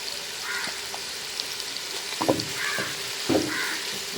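Onions frying in oil with a little salt in a pan while browning for egg biryani, a steady close sizzle with a few brief stirring scrapes and louder bursts near the end, no voices.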